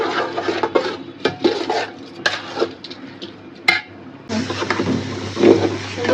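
Rice and lentils for khichuri are stirred and sautéed in a pot, with repeated close scraping and knocking of a spoon against the metal and a soft sizzle beneath.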